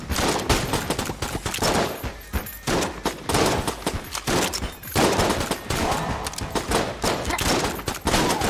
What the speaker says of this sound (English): Oh, it's grenades!